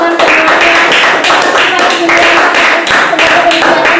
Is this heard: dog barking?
no